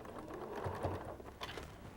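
A home sewing machine stitching fabric pieces for a hexagon quilt block, giving a quiet, steady mechanical whir with faint ticking across two seconds, heard without talk.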